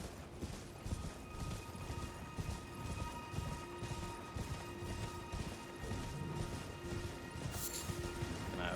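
Rapid, rhythmic horse hoofbeats in Elden Ring gallop continuously over a dense, busy background, with occasional clanks and a brief bright accent near the end.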